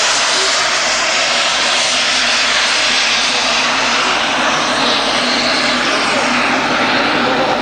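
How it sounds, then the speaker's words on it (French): An Antonov 70 military transport aircraft at the 1999 Paris Air Show at Le Bourget gives off a loud, steady, continuous engine roar throughout. "The Antonov 70 from a Russo-Ukrainian consortium, MTA, medium transport aircraft"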